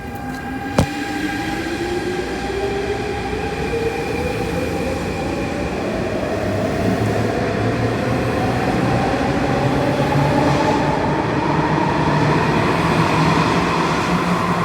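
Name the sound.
subway train arriving at platform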